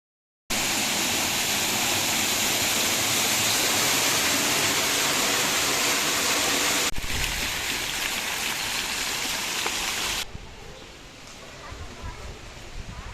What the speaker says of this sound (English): Also, this hotel has an interesting fountain.